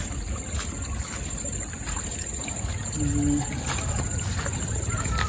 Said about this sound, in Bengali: এই যে পানি আসতেছে,